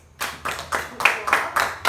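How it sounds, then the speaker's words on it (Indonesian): A fourth-grade classroom claps for a student in a quick, even rhythm: about seven sharp, close group claps, evenly spaced, each a crisp burst with no talk between them. "Tepuk tangan buat Dek Dwi"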